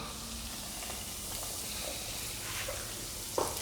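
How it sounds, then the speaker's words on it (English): Two chicken legs deep-fry in sunflower oil over medium heat, giving a steady, soft bubbling hiss with a brief crackle near the end. "I'm just deep frying 2 pieces of chicken legs over here."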